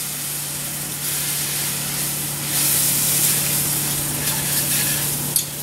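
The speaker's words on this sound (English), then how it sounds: "So I got this oil, and I'll put a little flour in there. It's going to make like a roux. Go ahead and stir this in just to cook this flour." Flour being stirred into hot oil to make a roux for gravy, giving a steady, loud sizzling hiss that swells slightly midway, with a faint scrape of the spoon near the end.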